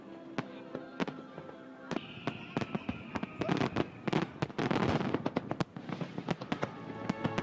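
A fireworks display over the water between Manhattan and Queens sends out a rapid series of sharp bangs and crackling bursts, some overlapping in a dense volley, heard at a moderate distance.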